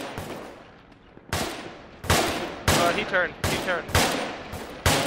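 Repeated loud gunshots from rifles in Arma 3, fired at an enemy beside a tree, sharp bursts spaced about half a second to a second apart over a quieter stretch, with a brief spoken remark between shots.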